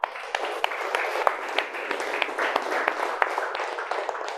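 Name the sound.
audience applause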